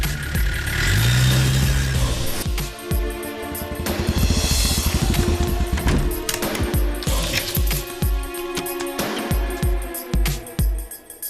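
A car engine starts up and revs, then the vehicle pulls away, with rattles, clunks and engine surges over several seconds.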